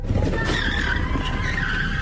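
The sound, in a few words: car ramming and skidding to force a Chevy Equinox to stop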